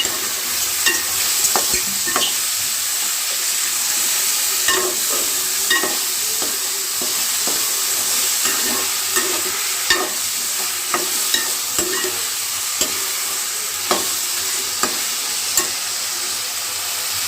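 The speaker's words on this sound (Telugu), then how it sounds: "వంకాయలు ఫ్రై చేసుకోవాలి." Brinjal (eggplant) pieces frying in a pan with a steady, loud sizzle and a bright hiss, broken by repeated scraping and stirring knocks of a spoon throughout.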